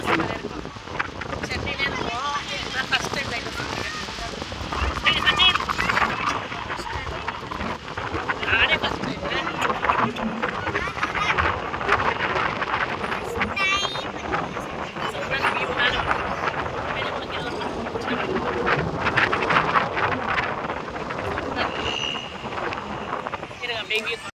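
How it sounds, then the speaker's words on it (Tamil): Strong wind blasts across the microphone at a lighthouse by the beach at Pattinapakkam, a loud continuous gusty roar that swells and eases without letup. "காற்று பயங்கரமான காற்று அடிக்குது."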